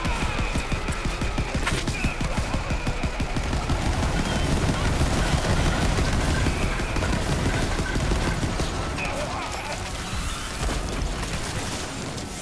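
The Sawbar rifle firing in the video game Borderlands 3: loud, rapid, dense bursts of gunfire that continue almost without a break, with booming impacts.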